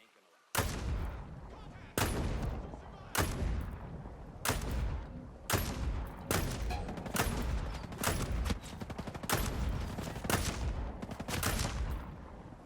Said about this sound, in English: that was an excessive amount of bullets